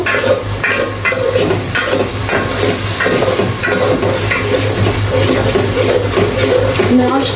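Beef curry spice masala being stirred and fried in oil in a pot, a steady sizzle with continuous scraping and stirring, loud and close throughout.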